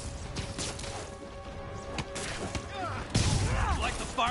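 Explosion in a Spider-Man video game, a burst of crashing noise layered with gunfire-like impacts and game music, with voices talking throughout and a louder blast near the end.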